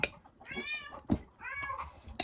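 Cat meowing nearby, a series of about three drawn-out meows with short pauses between them, fairly quiet with small clicks and knocks, outdoors near a beach.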